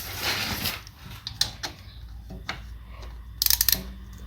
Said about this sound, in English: what I'm doing now is I'm just loosening the grub screw